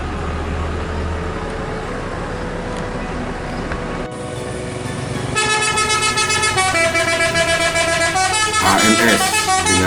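Busy outdoor street noise at a bus terminal in Solok, Indonesia, with engines rumbling as a bus departs and a vehicle horn blaring near the end, overlapping tones sounding over steady traffic.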